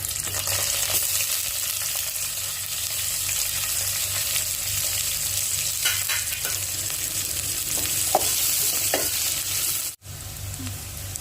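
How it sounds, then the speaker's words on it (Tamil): Onions sautéing in a pan with cashews and raisins for chicken pulao produce a steady, close sizzle with occasional stirring scrapes and a brief dropout near the end. "இது நல்லா கோல்டன் ப்ரௌன் வரத்தட்டையும் பொன்னிறமாக வரத்தட்டையும் நம்ம வதக்கிக்கிறணும் வெங்காயத்தை"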